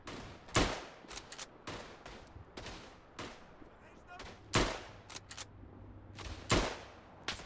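Rifle gunfire in the WWI shooter Tannenberg, sharp single cracks and short clusters of shots at irregular intervals, some close and loud, others fainter and distant.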